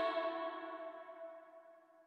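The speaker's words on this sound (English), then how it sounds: "that seems to have quite a lot of echo to that one" A sustained sung or tonal note washed in vintage chamber reverb from a UAD Capitol Chambers emulation, its dense harmonics ringing out and slowly decaying over about two seconds with a long echoing tail, no speech.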